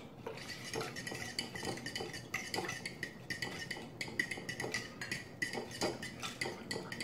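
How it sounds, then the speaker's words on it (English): Pickle juice, vegetable oil and other wet ingredients for rye bread being stirred in a bowl, a rapid continuous scraping and clinking of utensil against the dish, close and steady with no voices. "We'll mix that up real well"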